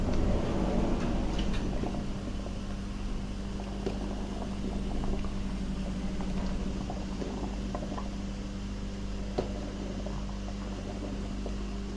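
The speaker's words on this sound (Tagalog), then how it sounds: "Kumukulo na siya." A purple bikko mixture of sticky rice bubbles in a pot, a soft continuous simmering hiss with scattered small pops and blips, close and fairly quiet with no talking.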